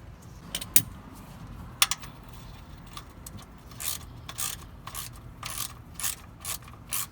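Ratcheting clicks come from a wrench loosening the oil drain plug on a car's oil pan during an oil change, in short bursts, some sharp and some softer, with no voices.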